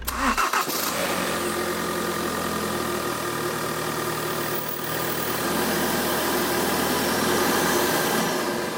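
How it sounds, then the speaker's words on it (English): A salvage Ford Focus RS engine cranks and catches, then settles into a steady, slightly rough idle with a low rumble and hissing air noise throughout. "there's all of our air noises, and there's our funny idle"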